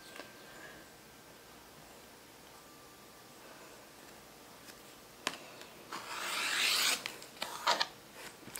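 Rotary cutter slicing through fabric along a ruler while trimming a quilt block, heard as a faint quiet stretch followed by a few close, rasping scraping strokes near the end.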